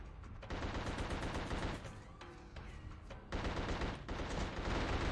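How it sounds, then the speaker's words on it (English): Enemy gunfire in The Suffering on PlayStation 2 comes as rapid, dense bursts of automatic shots, loud and close, with a brief lull in the middle before the firing picks up again, and no talk over it. "this guy will shoot me"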